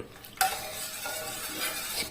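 Steady stirring of lemon squash syrup in a pot, a soft continuous scraping and swishing with a brief clink at the start, close and moderately quiet.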